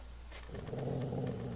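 A dog growls in The Walking Dead Season 2 video game, a low, continuous rumbling snarl that swells and stays close and steady.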